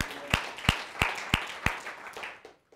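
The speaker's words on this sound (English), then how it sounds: "Let's give her a round of applause" A small audience gives a round of applause, heard as a handful of sharp, evenly spaced claps that slow and fade out within a few seconds.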